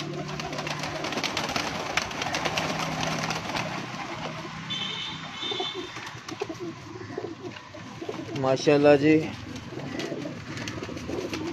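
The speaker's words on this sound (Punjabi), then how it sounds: "ਇੱਥੇ ਇੱਕ ਵਾਈਟ ਕਬੂਤਰ ਸੀ, ਉਹ ਇਸ ਕਬੂਤਰ ਦਾ ਸ਼ੋਅ ਕਰਾਓ।" A white pearl-spotted racing pigeon coos from a rooftop loft, low rolling calls recurring near the microphone, with someone speaking briefly and a louder burst of handling noise late on.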